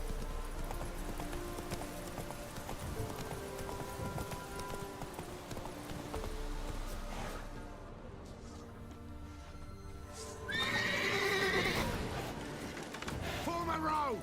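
Roach, Geralt's horse in The Witcher 3, gallops through the Deadmarch with steady clip-clopping hoofbeats beneath game music, while voices talk over it.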